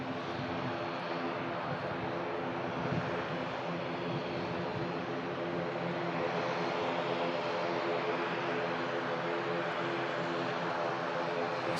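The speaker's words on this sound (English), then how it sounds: "There's a slightly bigger prop taxis out." Propeller aircraft taxiing at Manchester Airport, a steady droning engine with a layered tonal hum that holds evenly and close throughout, with no gaps.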